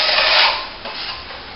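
A steel trowel scraping a plaster top coat across plasterboard repairs gives a close, continuous rasping rub. It is loudest at the start and eases off into softer strokes, with no talking.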